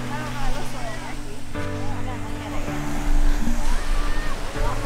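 Waves wash onto a quiet beach on the coast of South Korea near a fishing village with a mountain behind, a steady rolling surf and wind noise under loud, close talk from people nearby.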